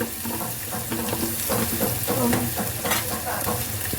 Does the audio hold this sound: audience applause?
no